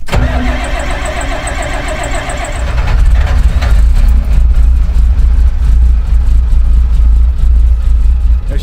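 A big cold excavator engine cranks briefly with a whirring starter, then catches and settles into a loud, deep, steady rumbling idle.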